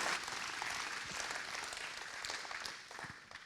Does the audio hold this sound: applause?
yes